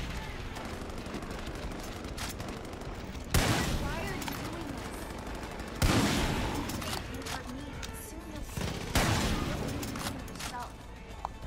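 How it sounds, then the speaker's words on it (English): Sniper rifle gunfire in the Far Cry 5 video game cracks out in three sharp, loud single shots a few seconds apart, each with a decaying echo, over game ambience and background voices. "I guess I'll just shoot him with my sniper."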